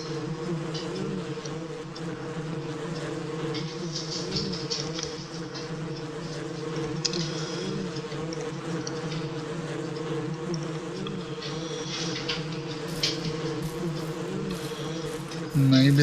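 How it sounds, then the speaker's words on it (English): Bees buzz around beehives on a ranch in the Ranch Simulator video game, a soft, continuous droning hum that holds steady and fairly faint throughout. "I hear the bees."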